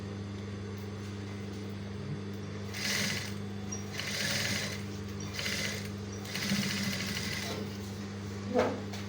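A sewing machine stitches fabric cufflinks in short bursts of whirring, several runs of a second or so separated by pauses, over a steady low mains hum.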